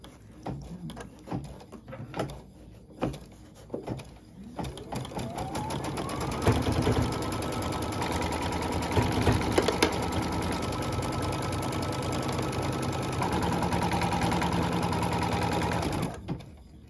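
An embroidery machine sews foundation-pieced flying geese quilt blocks in a hoop, six at once, starting with a few separate stitch bursts and then settling into a steady, loud mechanical whir that runs for about ten seconds before stopping.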